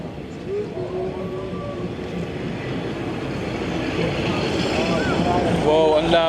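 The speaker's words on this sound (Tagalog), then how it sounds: "Rinig niyo ba yung train?" A train creeping through Maeklong Railway Market in Thailand, a low rumbling that grows steadily louder as it nears, with people talking over it and a few higher tonal squeals near the end.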